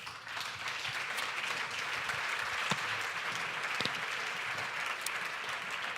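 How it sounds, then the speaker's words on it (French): At a round table of accounting profession officials during a business event in Monaco, a large audience gives a steady, even wash of applause, moderately distant, with a few individual claps standing out. "Messieurs, merci, on vous applaudit."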